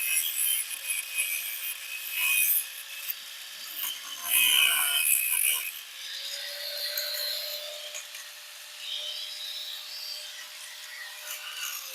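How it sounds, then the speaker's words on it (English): A grinder cuts off a brake cable bracket on a Yamaha, a thin high-pitched abrasive whine and scraping that rises and falls in bursts with a faint motor hum underneath. "We're going to grind that off and see how it goes."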